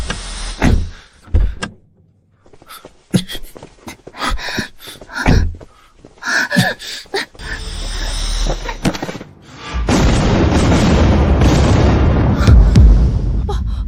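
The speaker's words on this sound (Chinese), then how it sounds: "爆炸了！" Several sharp thuds and clicks come first, then a rigged car explodes in a loud blast that erupts into a sustained, roaring rumble filling the rest of the moment.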